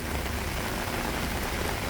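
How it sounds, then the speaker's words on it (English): Rain falling on a Brooklyn, New York City morning, a constant dense hiss of drops on surfaces, steady and fairly loud with no breaks. "It's raining here in Brooklyn, or I should say New York City."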